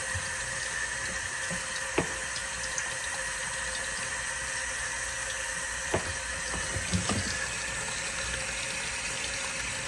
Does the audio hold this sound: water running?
yes